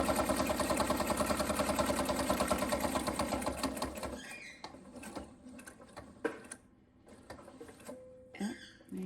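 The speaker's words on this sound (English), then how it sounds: "Send my needle down, turn, lift up, and sew right to that corner." Home sewing machine stitching binding onto a quilt, a fast steady mechanical whirring run for about four seconds, then stopping into quiet handling clicks and brief short bursts of stitching.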